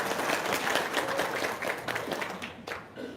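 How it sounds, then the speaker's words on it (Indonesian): An audience breaks into applause, a dense, fairly loud wash of clapping that swells and thins unevenly before tapering off near the end. "Tepuk tangan dong."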